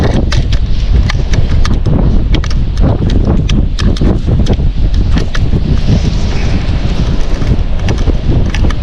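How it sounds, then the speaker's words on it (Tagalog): Strong gusts buffet an outdoor fishpond, a loud, steady roar of blustery wind with rough microphone buffeting and scattered sharp knocks and taps throughout. "lakas po ng hangin ngayon"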